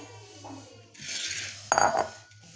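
Serving spoon scraping grainy makhandi halwa out of a cooking pot into a dish, a few quiet metallic scrapes and one sharper clink, close and alone.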